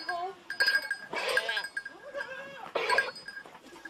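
Goats bleat loudly and close by during milking on a family farm, several overlapping bleats coming in repeated bursts with brief pauses between them.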